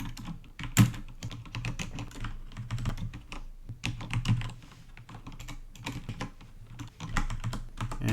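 Quick, uneven bursts of typing on a computer keyboard during a late-night programming session, close and clear with short pauses between runs of keystrokes and no one speaking.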